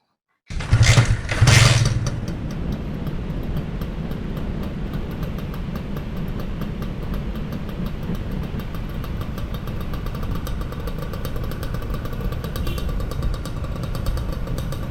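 A 1996 Honda NSR 150R two-stroke motorcycle, low mileage and dealer original, starts with a couple of loud revs and then settles into a steady, close, buzzing idle for the rest, with no talk.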